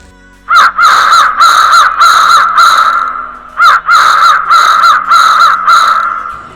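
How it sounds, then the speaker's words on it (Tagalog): Crows caw loudly and harshly in two rapid bursts of repeated calls, several birds overlapping close by, with a short pause between the volleys. "tanaw na tanaw ang lumilipad na napakaraming uwak"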